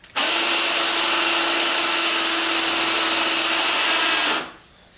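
A fur handling machine for skinning red fox runs with a loud, steady whirring hum that starts abruptly, holds for about four seconds, then winds down, with no talking.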